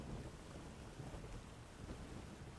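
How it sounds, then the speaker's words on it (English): A thunderstorm rolling in within the survival game Windbound, a faint, steady wash of rain and wind with low thunder rumbling underneath, no talk. "it sounds like we have our own rolling in"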